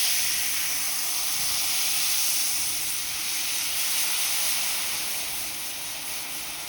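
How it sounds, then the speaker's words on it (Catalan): White wine poured into hot oil in a frying pan while making Barcelona-style salt cod, giving a steady, loud, broad sizzling hiss that holds on without a break and eases off slightly toward the end. "Ara posem al foc i mig got de vi blanc, en compte que reaccionarà violentament amb l'oli."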